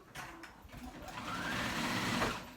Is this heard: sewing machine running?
yes